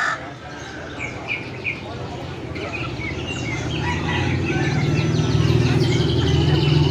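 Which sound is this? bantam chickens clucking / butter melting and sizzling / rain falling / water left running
bantam chickens clucking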